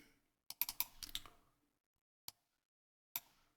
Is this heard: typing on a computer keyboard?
yes